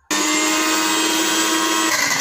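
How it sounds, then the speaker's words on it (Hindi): A mixer grinder grinds bread into crumbs with a loud, steady whir that starts abruptly and runs alone without pause. "अब हमने मिक्सर ग्राइंडर ऑफ कर दिया"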